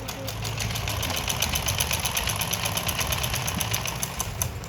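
A sewing machine runs steadily as it stitches a pajama seam, its fast, even mechanical rattle holding throughout at moderate, close volume.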